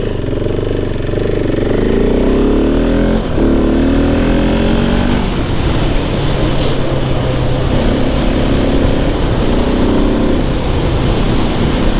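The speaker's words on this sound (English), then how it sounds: "Motor isn't overly loud. It sounds quieter than the DR does with the Q4." Husqvarna 701 Enduro motorcycle engine running steadily while riding, a continuous close drone with rising and falling pitch sweeps as the rider shifts through gears, mixed with constant wind rush and no talking.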